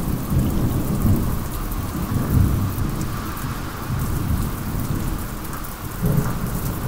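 Heavy downpour with rolling thunder, a dense, steady roar of rain on surfaces with deep thunder rumbles swelling around two and six seconds, loud and close throughout, no voices.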